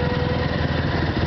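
A motorcycle engine idling at the Tauerntreffen 2012 winter rally, a steady close rumbling putter with an even, rapid pulse and no voices.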